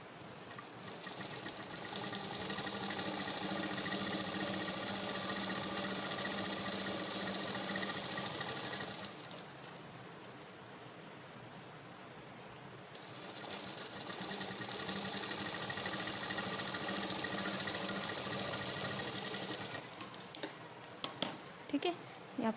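A sewing machine stitching a blouse runs in two long steady bursts of fast rhythmic whirring, separated by a short quiet gap, with a few clicks at the end.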